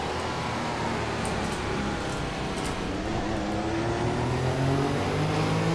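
A Formula One race car engine in F1 2014, a PC racing game, drones steadily and loud throughout, its pitch climbing as the car accelerates toward the end.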